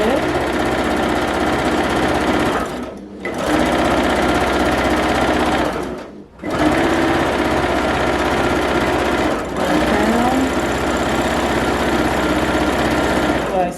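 A sewing machine stitching in the ditch on a quilt, running in a loud, continuous mechanical whir with three brief pauses between runs.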